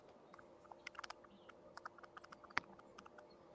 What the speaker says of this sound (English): Oh, somebody typing.